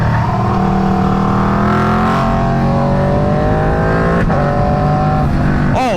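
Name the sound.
Aprilia RSV4 motorcycle riding, warming up the tires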